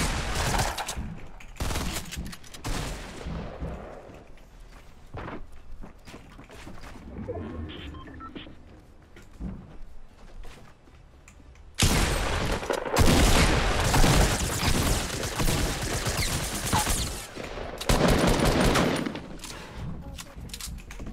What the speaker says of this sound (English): When you shoot the sometimes the Tommy gun doesn't shoot.